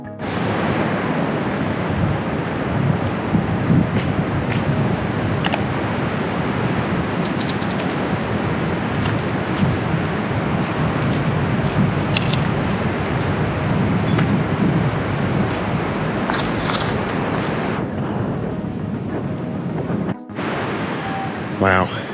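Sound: cold wind blowing

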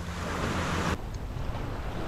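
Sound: ocean waves on beach

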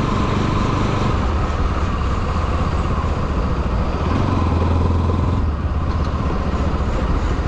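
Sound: motorcycle riding on the BP Highway

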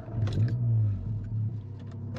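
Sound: VW Golf 7 GTI Clubsport engine revving, full exhaust

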